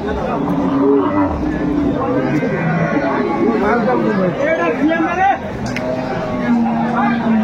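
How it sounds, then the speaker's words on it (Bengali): Cows and calves low repeatedly at a busy rural cattle haat in Aftabganj, Dinajpur, their moos rising over a steady babble of crowd chatter and nearby voices. "চমৎকার গাভী বাছুর দেখছিলাম, কোয়ালিটি সম্পন্ন"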